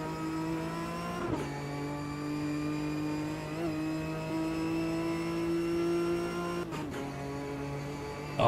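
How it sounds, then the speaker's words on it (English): Ginetta Supercup race car in the video game Automobilista 2 at Road America, a steady droning engine tone held at high revs with abrupt pitch drops at two gear shifts, alone and clear without talk. "Every now and again it will double shift up or double shift down."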